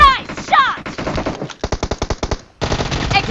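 PUBG Mobile gunfire rattles out in rapid automatic bursts, a loud close run of evenly spaced shots, a short pause, then another burst, with brief game sounds at the start.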